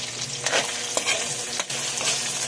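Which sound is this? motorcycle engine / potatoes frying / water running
potatoes frying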